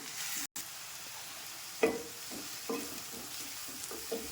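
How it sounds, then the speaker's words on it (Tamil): Steady sizzling of onions, with chillies, frying in oil for a chicken gravy, with a few soft scraping stirs of a spoon in the pan; no talking. "இப்போ வெங்காயத்தை போட்டு நல்லா வதக்கணும்."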